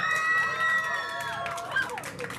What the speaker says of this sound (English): cheer for that hero as loud as you can